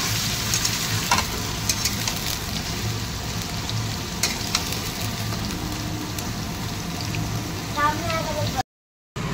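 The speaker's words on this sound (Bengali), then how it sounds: "লাল লাল করে আলু ভাজা হচ্ছে" Large chunks of potato fry in hot oil for biryani, giving a steady, dense sizzle that runs throughout with occasional clinks from utensils near the close.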